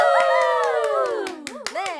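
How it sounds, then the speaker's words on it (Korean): Members of the K-pop girl group Signature clap together in a studio talk show segment, with a string of crisp, evenly spaced claps under sustained, rising and falling cheering voices that tail off into scattered claps. "멤버들 박수!"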